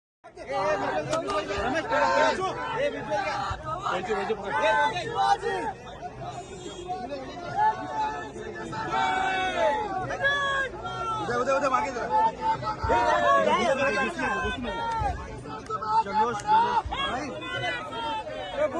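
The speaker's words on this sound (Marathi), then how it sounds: "राज्यभर मराठा आंदोलक आणि मराठा समाज जल्लोष साजरा करतोय" Maratha protesters celebrating in a dense crowd, a continuous babble of many voices with shouts and cheers rising and falling, close and loud, for the whole stretch.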